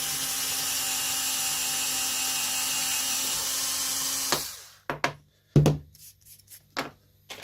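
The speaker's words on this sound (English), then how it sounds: "So I drill a 3mm hole." A small high-pitched power drill whines steadily for several seconds drilling a 3mm hole in a scale-model garage wall, then stops, followed by a few clattering knocks and handling noises nearby.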